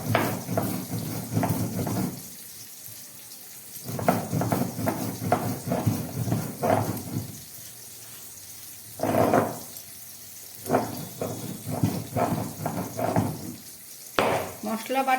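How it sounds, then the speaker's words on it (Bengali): Dry spices are ground on a stone shil-nora slab in a home kitchen, making bursts of rough scraping and rubbing strokes separated by pauses, near and moderately loud. "আমি এটাকে শুকনো এবারে বেটে নিচ্ছি।"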